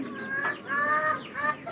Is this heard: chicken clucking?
yes